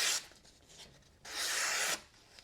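A used, hollow-ground, flat-ground folding knife slices through paper in two smooth rasping strokes, the second longer and louder, close up with no talking.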